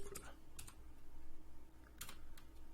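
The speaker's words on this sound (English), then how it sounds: "type in my password that I'm going to use to log in" Password being typed on a computer keyboard during a Linux install: a few scattered key clicks, close and fairly quiet, with pauses between short bursts against a steady background hum.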